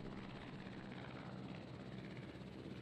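A helicopter in the video game Jurassic World Evolution gives a steady, faint rotor drone with a continuous broadband rumble, unchanging for the whole stretch, with no talk.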